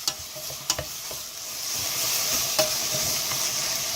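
Minced meat sizzles in a pan over high heat for a vegetarian chilli con carne, a steady loud hiss and crackle with a few sharp clinks of a spoon stirring near the start.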